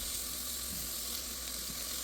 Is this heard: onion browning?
yes